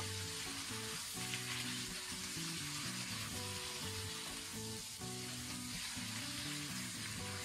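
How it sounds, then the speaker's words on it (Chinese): Thick napa cabbage stems tossed into a wok with garlic and stir-fried over medium-high heat give a steady, dense sizzle with faint stirring throughout, and no voices. "这个时候再下入白菜帮，翻炒均匀。 炒白菜的时候可以保持中高火。"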